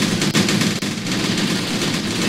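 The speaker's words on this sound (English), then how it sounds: "Man, that is the craziest tracer round battle I've seen" Machine gun tracer fire in the tactical war game Graviteam Tactics, set in Angola, a loud, dense, unbroken stream of rapid automatic gunfire with a couple of heavier thuds mixed in.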